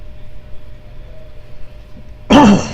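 A person coughs and clears their throat in one loud, close burst near the end, after a quiet stretch of low background hum.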